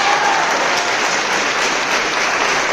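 Audience applause at a live program, a loud, dense, sustained clapping from a crowd that fills the whole moment without breaks.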